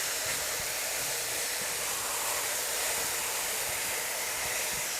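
Shrimp lo mein vegetables and cabbage stir-frying over high heat in a deep sauté pan, giving a steady, loud sizzle and hiss that continues throughout, with faint scraping clatter underneath.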